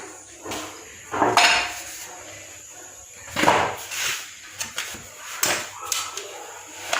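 A metal oven baking tray clatters and scrapes as it is handled in a home kitchen, with several sharp clanks spread irregularly across the moment, fairly close and loud.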